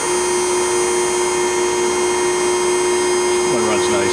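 An Okamoto ACC-16.32EX automatic surface grinder spindle runs at speed with its hydraulics already going, a loud steady drone carrying a strong constant tone and high whine. Faint shifting sounds appear near the end.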